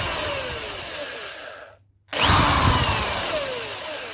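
A step drill cuts a hole in a camera mounting box, its steady, loud whine cutting out briefly around the middle before restarting at full strength for the next step, with no voices present.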